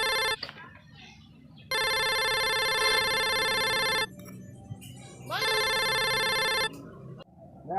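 A telephone ringing in two long bursts of an electronic ringtone with a pause between, loud and close, with brief clicks and room noise around it.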